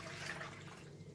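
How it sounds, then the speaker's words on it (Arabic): Warm water is poured for homemade pizza dough, a brief, faint, close trickling splash with no voices. "هنبدا دلوقتي ننزل بالميه بتاعتنا، هي دافيه"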